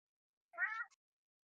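A single short cat meow, clear and close, in otherwise quiet surroundings.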